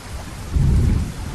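Heavy rain hisses steadily while a deep roll of thunder swells up close and loud, rumbling through the middle before easing back under the downpour.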